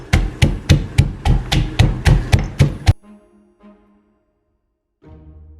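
Garlic cloves are pounded coarsely for rasam, about ten sharp, evenly spaced thuds in quick succession, then a couple of softer knocks and a brief rustle, close and loud.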